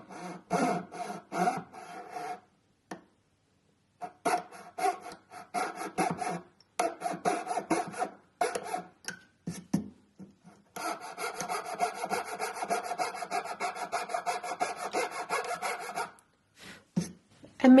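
A jeweler's saw blade rasps back and forth against metal held at a wooden bench pin, cutting a first notch in repeated short strokes with brief pauses, then a longer steady run of strokes, close and alone.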